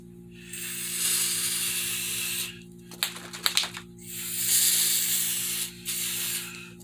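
Aerosol can of rubber coating sprayed inside a fiberglass helmet: two long steady hissing bursts separated by a few sputtering clicks, close and fairly loud, with no talking.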